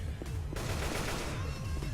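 Gunfire in the video game Left 4 Dead 2, a rapid run of sharp shots rattling over a dense, noisy background throughout.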